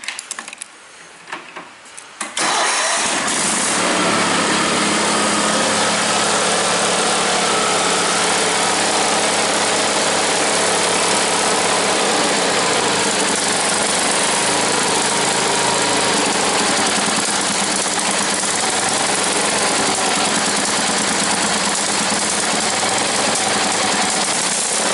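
A tractor engine cold-starts after a short quiet moment, catching abruptly and then settling into a loud, steady, rough idle that runs on unbroken.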